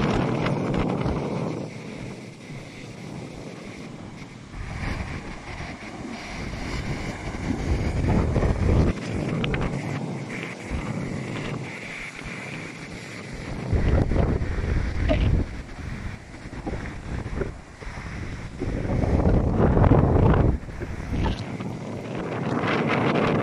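Strong gusting wind roars across a microphone at a beach at Puntal de Laredo during storm Ciarán, swelling and easing in loud surges with surf and waves underneath while windsurfers sail nearby.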